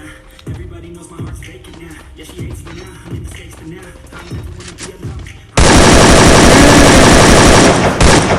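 Gunfire rattles in a shooting video game during a tournament final: repeated rapid shots and bursts, then a sudden sustained loud barrage, with a commentator's voice talking over the action.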